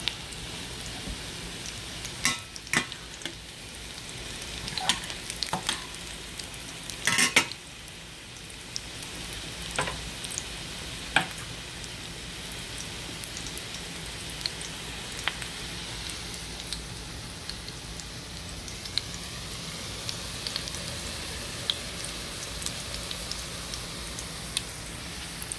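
Dungeness crab cakes fry in a pan over medium-high heat with a steady, soft sizzle and occasional sharp pops and crackles.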